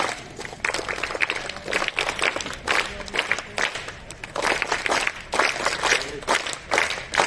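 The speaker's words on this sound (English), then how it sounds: "Let's have a huge round of applause." Students at a school level-promotion assembly in Bhopal clap, with sharp bursts of many hands coming in uneven waves of rising and falling intensity, fairly close and lively.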